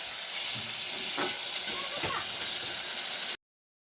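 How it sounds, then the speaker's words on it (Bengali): Potato and taro stem curry with chopped tomato frying in a pan, a steady close hiss of sizzling oil with a few soft stirring knocks, cutting off abruptly near the end. "এখন ভালো করে কষাতে হবে তরকারিটাকে"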